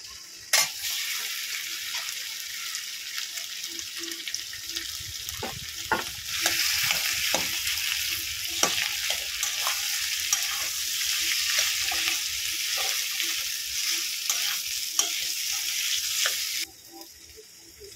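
Boiled potatoes and curry leaves frying in a pan, with a loud, continuous sizzle that intensifies partway through, plus stirring scrapes and a few sharp utensil taps, ending abruptly.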